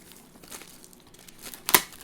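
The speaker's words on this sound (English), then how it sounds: "And commence the unwrapping." Packaging crinkles and rustles while a Synology DiskStation DS1813+ NAS is unwrapped, soft close crinkling that ends in one sharp, louder tear or snap near the end, with no voices.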